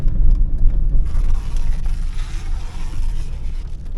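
A 2003 GMC Envoy on a test drive after welding work gives a steady, close engine and road rumble, a low continuous drone heard from inside with no talking.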